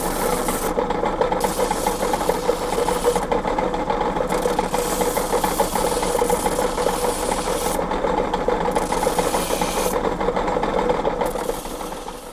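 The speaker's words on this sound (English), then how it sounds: "The fitter grinds the joint between blade head and handle to remove lead residue." A fitter grinds the joint between a knife's blade head and handle to clear lead residue in an old knife maker's basement workshop; a steady, loud rasping grind runs continuously for about twelve seconds, easing off at the end.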